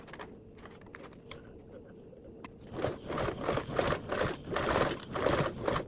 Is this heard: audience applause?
no